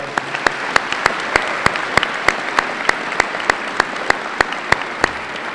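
Steady applause from the audience at a high school Veterans Day program, honoring the band and choir; dense clapping with a few sharp, regular claps standing out near the front, continuous and even throughout.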